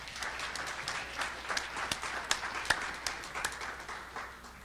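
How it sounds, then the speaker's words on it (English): Audience applause for a student presenter at a high school pitch competition, a steady wash of many hands clapping with a few sharper nearby claps standing out, moderately loud and sustained throughout. "Let's give Braden one more big round of applause"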